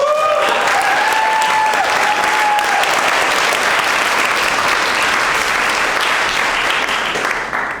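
Steady, loud applause from a crowd at a Green Party presidential campaign rally in Manchester, New Hampshire, sustained dense clapping throughout with a few faint voices in the mix.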